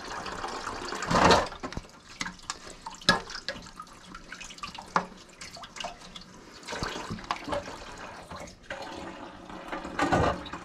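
Tap water runs steadily into a kitchen sink while a metal grater used on bar soap is rinsed, with surges and splashes of louder flow between quieter trickles, heard alone without talk.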